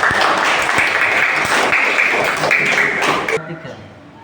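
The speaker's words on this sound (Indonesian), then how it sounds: "beri tepuk tangan yang meriah untuk Mbak" A classroom breaks into loud, dense applause for a student who has just finished retelling the Malin Kundang folk tale. The clapping fills most of the clip, then cuts off abruptly and fades into quieter room sound.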